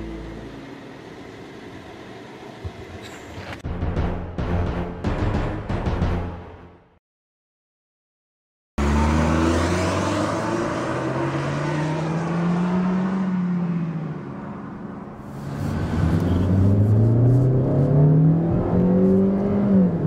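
A Kia Forte compact car's engine revs up and accelerates, the pitch climbing through gear changes, after a brief silent gap.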